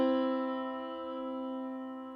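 A sustained do-mi interval in equal temperament, two steady tones held together with a faint slow wavering beat, fading slightly over about two seconds with no other sound.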